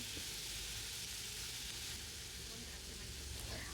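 Ginger and garlic drop into a hot pan of oil for kadai paneer, giving a steady, close sizzle and frying hiss that holds evenly throughout with no one talking.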